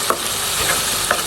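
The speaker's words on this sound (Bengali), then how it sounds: "এখন টমেটোটাকে ভালো করে একটু গালায় নিব" Chopped tomatoes frying in a hot pan as a spoon stirs them, making a loud, constant sizzle with a few light scrapes of the spoon against the pan.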